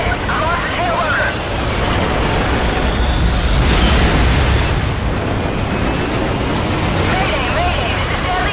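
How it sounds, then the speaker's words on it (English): A helicopter goes down in Call of Duty Modern Warfare. A loud, sustained roar of engine and jet noise swells to a burst midway, and voices talk over it. "Friendly helicopter has been shot down."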